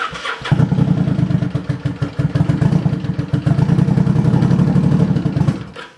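A Kawasaki Vulcan 750 motorcycle, recently worked on with carbs adjusted, cranks and fires up, then runs at a loud, fast, throbbing idle close by for several seconds before cutting off.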